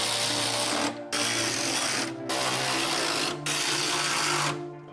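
Power tool running steadily as it drives M8 bolts through rib nuts while a 4-row aluminum radiator is fitted to a 2006 Toyota Sequoia: a loud continuous whirring drone, broken by three brief pauses between bolts.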